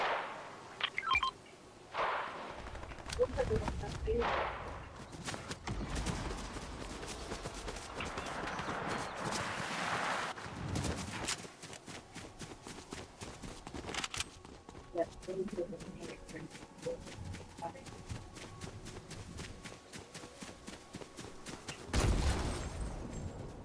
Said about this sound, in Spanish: Hay disparos detrás.